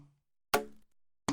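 Pitch-shifted Coke bottle hits playing a musical part: a faint tail, then a sharp ringing strike and another at the end, sparse and isolated with silence between.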